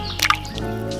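A small brook trout is slipped back into a freezing little creek, making a brief close splash and dripping squish, followed by the low steady flow of running water.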